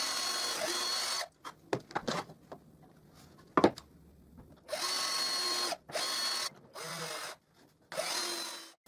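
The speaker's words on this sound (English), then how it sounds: "I must make sure I drive the screw's head under the wood surface" A power drill drives screws into a plywood router jig, with several loud whirring bursts of a second or so each, separated by short pauses and quieter handling clicks and knocks.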